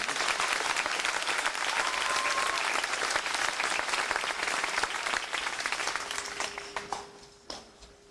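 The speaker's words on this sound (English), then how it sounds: "Please join me in a round of applause for all of" A large audience applauds at the 1991 Yale commencement ceremony. The clapping is dense and sustained for several seconds, then thins out and fades to a few scattered claps at the end.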